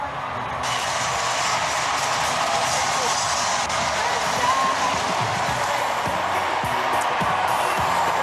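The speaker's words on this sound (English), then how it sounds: "You gotta hear the fucking crowd" Large crowd cheering at an Obama rally in Chicago, a dense continuous roar that stays loud and steady throughout without pause.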